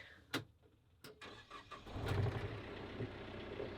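An old tractor engine cranks after a couple of sharp clicks, then catches and settles into a low, rumbling idle, heard fairly close and alone.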